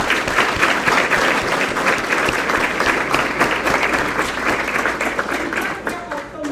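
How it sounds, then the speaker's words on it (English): A crowd at a school district board of education meeting claps in sustained, dense applause that stays loud and steady for several seconds, then begins to thin toward the end. "Let's give them a round of applause."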